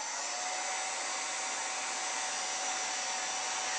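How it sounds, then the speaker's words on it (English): A heat tool blows in a steady, loud, continuous whoosh while drying paper craft leaves, close up and unbroken for the whole stretch, with no talking. "And then I'll bring in my heat tool here, if I can reach that far."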